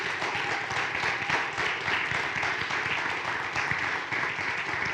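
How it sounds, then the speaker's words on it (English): School auditorium crowd applauding a high school drama club after its performance, with sustained, dense clapping from many hands, fairly close and steady for several seconds. "So please give them one more round of applause."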